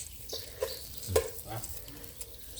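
Meat sizzles and crackles while grilling for Thai blood larb, a steady close sizzle with scattered pops and clicks.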